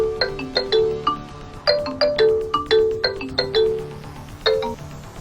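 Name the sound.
phone ringing with an incoming call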